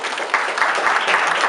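Audience applause at a softball signing day event, a steady wash of clapping hands lasting the whole stretch at even loudness with no talk over it.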